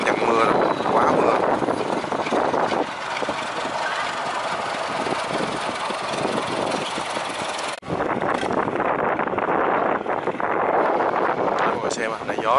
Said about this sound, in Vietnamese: Mọi người xem ạ, này gió rất nhiều luôn.